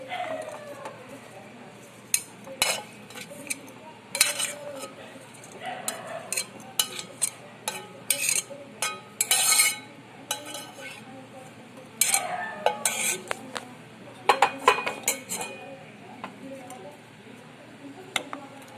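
Cooled ginger pieces for ginger pickle go into a mixer jar as metal utensils clink and tap in scattered bursts against a steady low background.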